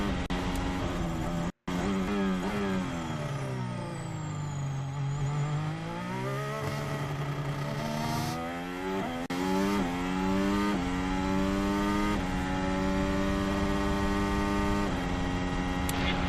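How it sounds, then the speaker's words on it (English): Formula 1 cars, lapped runners at the 2021 Abu Dhabi Grand Prix, drive past with a loud, continuous engine whine that sweeps up and down in pitch, broken by one brief dropout. "Lap cars are going by now."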